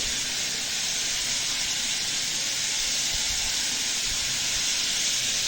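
Garlic and onion paste sizzles in a pan, a steady loud hiss that holds evenly throughout with faint low bubbling underneath.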